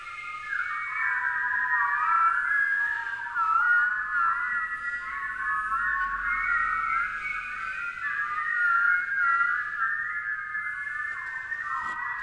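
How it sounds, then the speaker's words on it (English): Strong pursed-lip whistling from a group in a Kundalini yoga class, a sustained, wavering high tone held steadily for the whole stretch with slight pitch bends. "Whistle as powerfully and as clearly as you can."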